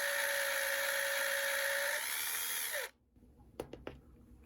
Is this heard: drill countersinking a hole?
yes